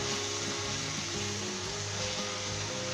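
Cabbage sabzi cooking on high heat in a pan, a quiet steady sizzle and hiss with faint low stirring rumbles, no talking.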